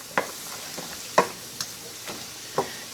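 Onions and bell peppers cooking down slowly in a pot for homemade tomato soup, with a soft low sizzle and several distinct spoon stirs and taps at close range.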